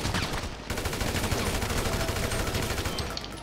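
A sniper rifle fires in a video game, a loud burst of rapid gunfire with rattling reports that fills the clip and no talk.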